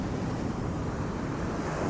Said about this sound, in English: these waves are getting pretty close